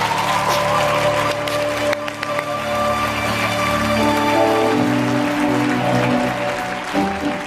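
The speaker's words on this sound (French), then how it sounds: "Là, tu peux acclamer." A church congregation cheers and applauds during a sermon by Pastor Teddy Ngbanda, producing a steady wash of clapping with raised voices mixed in, sustained at moderate loudness throughout.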